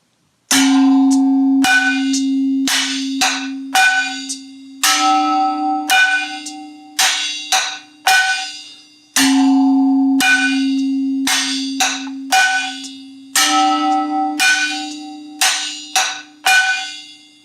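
A homemade drum set of a pot and metal bowls struck in a steady beat, each hit ringing with a bright, bell-like metallic tone that decays between strikes, played alone and up close.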